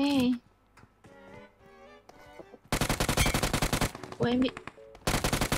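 Automatic gunfire in PUBG Mobile rattles in loud, dense bursts, a long volley followed by shorter ones, with voices talking in between.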